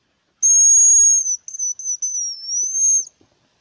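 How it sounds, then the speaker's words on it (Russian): A hazel grouse whistles across a river in the forest: a thin, high, clear note is held for about a second, then broken into several shorter piping notes, with no talking. "И рябчик свистит."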